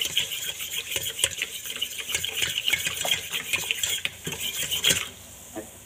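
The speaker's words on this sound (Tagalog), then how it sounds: "Dissolve mo siya hanggang siya ay matutunaw yung baking soda natin." Baking soda being stirred into hot water to dissolve it, a rapid run of close clinking and scraping strokes against a container that slows and fades near the end.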